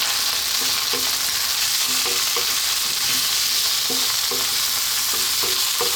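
Coriander, chili and turmeric powders fry in a pan for a spicy potato curry, a loud, dense sizzle throughout with repeated scraping stirs, close up and without speech.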